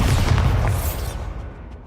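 Bombarda spell explosions in the video game Hogwarts Legacy: a dense, loud run of booming blasts and bursts over the first second, then a rumbling decay that fades out, with no talking.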